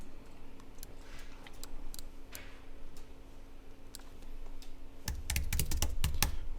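Typing on a computer keyboard: sparse light key taps at first, then a quick close burst of keystrokes over a quiet steady hum, with no talking.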